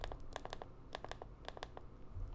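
Shift key on a PC keyboard pressed repeatedly, giving faint, crisp plastic clicks in a few quick clusters over a low steady background hum.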